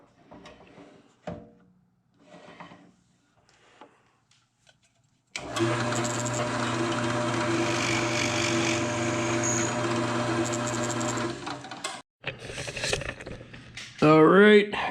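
A drill bores holes into red oak cocktail smoker tops, a loud steady whirring drone lasting several seconds up close, preceded by a few knocks and brief handling sounds, with a voice heard briefly afterward.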